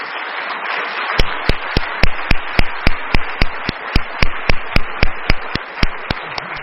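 An audience at an entrepreneurship summit in Bali applauds steadily, with one sharp rhythmic clap cutting through at regular beats over the continuous wash of clapping.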